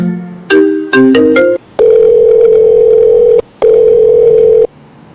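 A telephone rings during a Tamil romantic movie scene: a quick run of short electronic beeps, then two long, loud, steady ring tones separated by a brief gap, with no talking.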